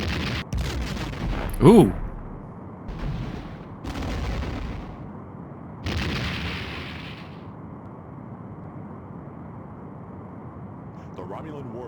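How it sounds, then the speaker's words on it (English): A Romulan warbird explodes in the Star Trek: The Next Generation A Final Unity space game, with several heavy blasts and rumbling bursts followed by a fading roar, plus a brief startled exclamation from a voice. "The Romulan warbird has been destroyed."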